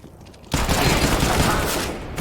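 Sudden burst of rapid video game gunfire in a first-person shooter match, loud and continuous after a brief quiet start, with the shots running together into a dense volley.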